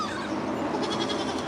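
A goat named Evie bleats, a sustained, strained cry heard up close over a broad background of farmyard noise, with no one speaking.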